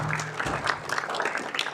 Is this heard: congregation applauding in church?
yes